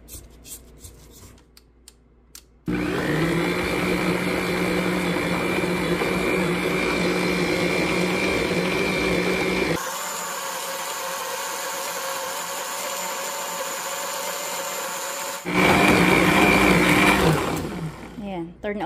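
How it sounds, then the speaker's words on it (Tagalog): A stand mixer kneads hopia dough of flour, water and oil with a loud, continuous motor whine that holds steady, shifts to a different pitch partway through, then rises louder before stopping. "bago buksan yung ating stand mixer"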